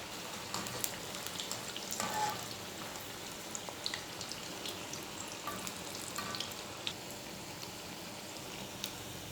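Shaped onion vadas (ullivada) sizzle in hot oil, a steady crackling and spattering fry with scattered pops, moderately loud and continuous without any talking.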